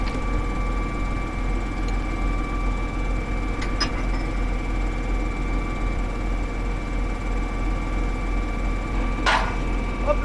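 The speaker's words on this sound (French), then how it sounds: "Ce tracteur il fait un bruit, il est magnifique. Il fait pas trop de bruit." A tractor engine runs at the start of the barley harvest, holding a faint, steady low hum with a couple of thin whining tones and a few brief clicks and knocks.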